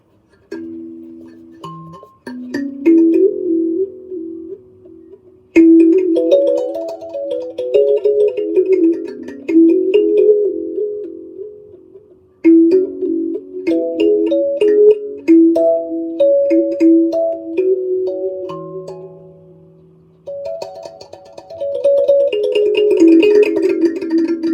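A handmade tuned percussion instrument with Brazilian rosewood tone bars and a Brazilian rosewood back is struck in melodic runs of plucky, ringing notes, played close and clear in several phrases separated by short pauses.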